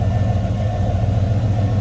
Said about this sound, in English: deep throaty growl. Number 350 underneath the hood.